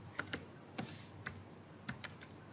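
Computer keyboard typing a Composer command in a terminal, a few quiet, sparse key clicks spread over a couple of seconds, with no talk.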